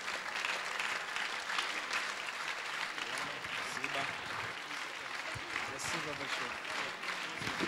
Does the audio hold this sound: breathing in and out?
no